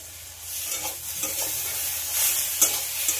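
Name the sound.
sautéing eggplant and potato with chopped tomato and green chillies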